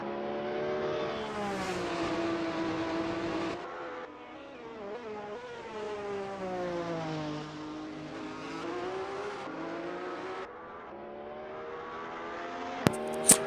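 Formula Alfa single-seater race cars lapping a circuit in the Halfords Formula Alfa Championship, with engines droning and shifting pitch steadily throughout as cars pass, and a brief sharp click-like burst near the end.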